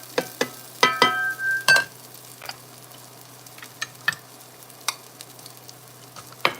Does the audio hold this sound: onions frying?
yes